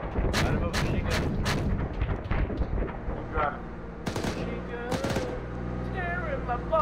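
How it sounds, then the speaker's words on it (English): Machine gun fire in the military shooter Arma 3 comes as sharp bursts of repeated loud cracks, then scattered single shots and echoing reports, with voices talking over the gunfire. "Keep driving. Machine gun."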